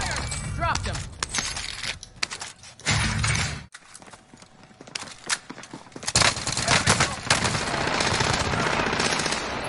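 Video game gunfire rattles through a shootout in rapid automatic bursts and sharp single shots, loud and close, mixed with other game effects and a break of near quiet.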